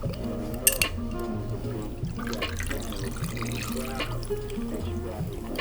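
Soda water poured into a glass of Absolut Vodka for a vodka soda, a continuous gurgling, fizzing pour up close with faint background voice and a couple of glassy clinks near the start.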